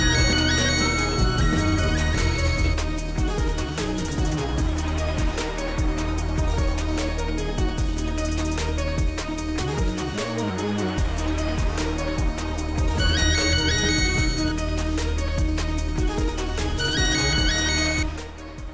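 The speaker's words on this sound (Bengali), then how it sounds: "তুমি আমাকে যতই ফোন দাও তোমার ফোন আমি ধরছি না।" A mobile phone ringtone plays on unanswered for a long stretch, a loud melodic repeating tune close by with no voices.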